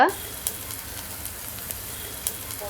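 Cumin seeds sizzle in hot oil during tempering, a steady crackling fry with a few sharp pops, close and fairly loud with no talk over it.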